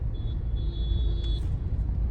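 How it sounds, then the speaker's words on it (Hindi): Slow, congested road traffic in Delhi, a steady low rumble of idling and creeping vehicles close by, with a faint thin whine and a brief higher hiss near the middle, no voices. "दूर तक ट्रैफिक पूरा भरा हुआ"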